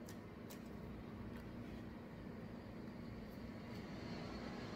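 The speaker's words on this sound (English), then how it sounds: "Airplane." An airplane flies overhead close to an airport, a faint, steady rumbling drone that lasts throughout with no change in level.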